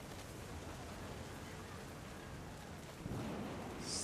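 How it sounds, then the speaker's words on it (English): A thunderstorm with steady heavy rain plays in the game What Remains of Edith Finch, a constant hiss with low rumbling and a sharper swell near the end. "The thunder sounded much too close and full of angry power."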